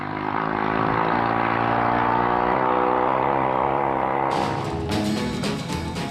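British motorbike engine from the 1950s, a loud, close engine note that rises and falls in pitch across several revs, with a harsher burst near the end.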